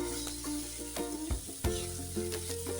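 Gooseberries stirred in hot ghee in a pan for nellikai chutney, a soft continuous sizzle with a few spoon scrapes, near and without talk.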